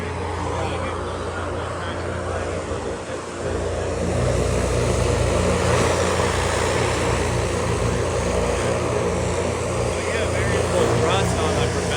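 A Goodyear blimp's variable pitch propellers run in reverse, a loud, steady droning roar that swells after a few seconds and holds, with people talking faintly under it.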